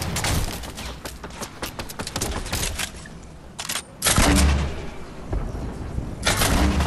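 Rocket fire and explosions in Fortnite: repeated sharp blasts and booming impacts, with heavy low-end thumps after the midpoint and a loud final burst, all close and forceful.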